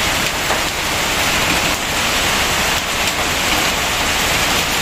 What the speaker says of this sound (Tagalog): Ulan no, lakas oh.